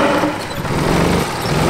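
A car engine roars at steady high revs while drifting inside a garage, a loud, dense, close drone with no gaps.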